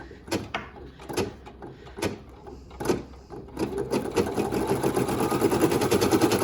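A Brother PE800 embroidery machine sewing a satin stitch: several separate mechanical clunks first, then a fast, steady, close stitching whir that keeps building to the end, with no voices.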